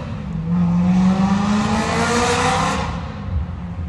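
A car engine revving hard nearby, a single rising and falling roar lasting a couple of seconds before fading to a steady idle.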